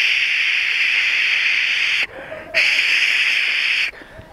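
A voice imitates falling rain as a steady, breathy hiss, close and continuous, with a short break in the middle and a brief pause just before the end.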